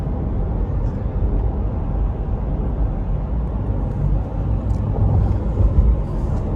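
Cabin drone of a 2021 Chevrolet Corvette C8 Z51 driving on bumpy San Antonio roads: a steady, loud low rumble of engine and road noise throughout, with faint thumps from the rough surface.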